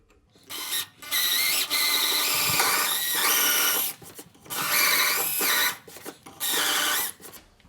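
A power drill with a countersink bit bores a recess for a screw head, whining loudly in four separate bursts split by short pauses.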